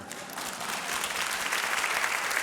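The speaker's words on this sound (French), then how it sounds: "On n'applaudit pas!" Theatre audience applauding at a comedy show, a dense steady wash of clapping that swells slightly and holds loud throughout.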